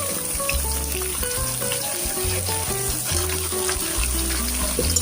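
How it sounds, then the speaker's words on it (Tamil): Chopped spring onions fry in a hot pan with oil, giving a steady close crackling sizzle, with stirring scrapes and clinks over the top and no talking. "வெங்காயத்தாள் நல்லா ஃப்ரை பண்ணோம்."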